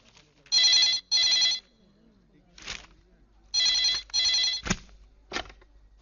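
A telephone bell rings in two pairs of bright, buzzing double rings, with brief speech sounds in the gaps between the rings.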